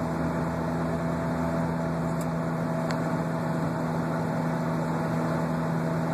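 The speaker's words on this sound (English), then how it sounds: "Alright, that roaring is definitely not the engine noise." A car with a worn left wheel bearing, lifted off the ground with its wheels turning, gives a constant low, humming roar that stays even throughout.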